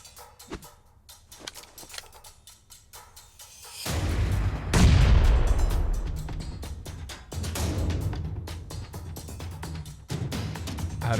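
Grenade explosions in the mobile battle royale PUBG Mobile: a deep, heavy boom swells and rumbles for several seconds, with later blasts rolling in over scattered gunfire and clatter.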